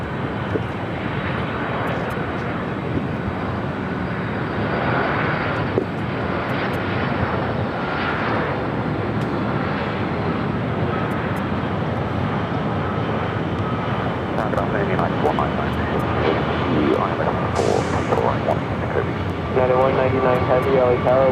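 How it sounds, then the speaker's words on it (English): A Boeing 757 jet taxis at LAX, its engines giving a steady, loud roar throughout while a person talks over it and radio chatter comes through. "It's a 757 at 200 coming in from Sacramento."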